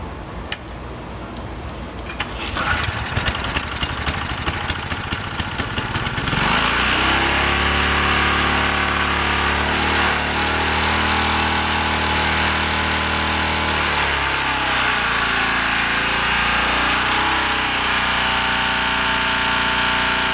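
Ex-cell VR2500-1 pressure washer engine starting up and settling into a loud, steady, close-up drone near top speed, unloaded, running continuously alone.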